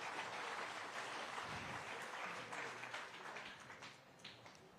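Steady crowd applause at a bass fishing tournament championship weigh-in at Lake Eufaula, Oklahoma, a dense wash of clapping that holds throughout and eases slightly toward the end.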